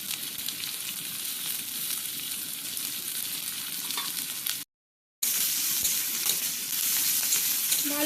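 Chopped beans, carrot and garlic stir-fried in a pan: a steady, dense sizzle running throughout, broken briefly by a short silent gap, close and loud with no voices.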